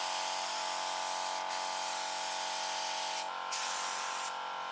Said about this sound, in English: Using a spray tool to work on loosening more rust from the body.